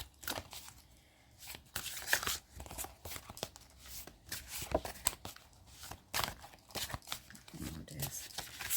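Oracle cards from the Phoenix Oracle deck are shuffled in quick, papery riffles and rustles close by, coming in irregular bursts.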